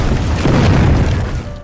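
A loud, deep boom of tank gunfire and explosions rumbling like a heavy blast, sustained and dense before trailing off at the end.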